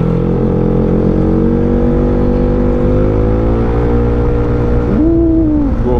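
A Yamaha XMAX 400cc scooter with an upgraded engine runs loud and close at high revs, its strong droning hum holding steady before a quick rev rise near the end.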